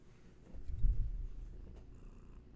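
Cat Hattie purrs close by, a soft low rumble that swells in the middle and fades out, with nothing else over it.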